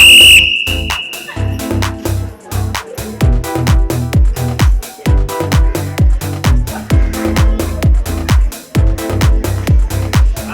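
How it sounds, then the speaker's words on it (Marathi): A single short, shrill whistle blast starts a game at a school Saturday activity, heard at the very beginning before loud rhythmic music with a heavy thumping beat takes over. "मी शिट्टी मारली की आपला खेळ चालू होईल"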